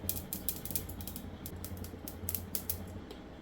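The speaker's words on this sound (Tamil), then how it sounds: "இப்போ கடுகு, வெந்தயம், சீரகம் நல்லா படபடான்னு பொரியட்டும்" Mustard, fenugreek and cumin seeds spluttering in hot oil in a pan for a Tamil fish curry, a dense run of fine crackling pops at an irregular pace, quiet and close, with no talking.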